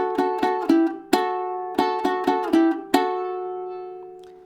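A short ukulele chord pattern played twice, about ten crisp plucked strums in two matching groups, the final chord ringing out. Close and clear, no voices.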